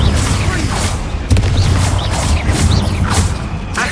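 A Confringo explosive spell goes off in Hogwarts Legacy, loud booming blasts and rumbling impacts with mechanical creaks and crackling, dense and continuous, with a voice shouting briefly over the din.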